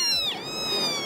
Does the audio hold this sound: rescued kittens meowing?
yes